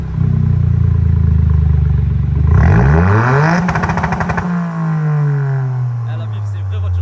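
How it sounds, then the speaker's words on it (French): Idle of a Toyota GR Yaris rally-bred hatchback fitted with a cat-back exhaust, a steady low rumble that briefly swells in a short rev before settling back to a deep, even burble, close and loud. "Voilà, là, on entend un petit peu le ralenti."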